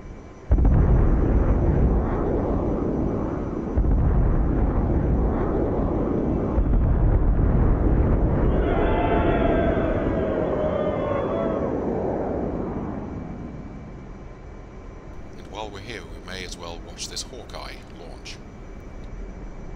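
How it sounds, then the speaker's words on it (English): A supersonic jet roars past in the DCS flight simulator game, a loud broad rumble swelling then fading over several seconds, with a rising whine in the middle and scattered sharp game sounds near the end. "First ship supersonic flyby, RAF typhoons on port side."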